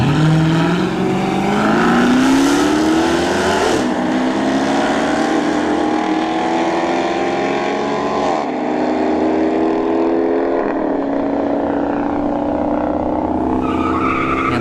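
A drag race between an SRT Dodge Charger and a Dodge Challenger RT: loud, sustained V8 engine roar climbing in pitch through the gears, with shifts and a long, continuous howl as the cars launch and pull away down the strip.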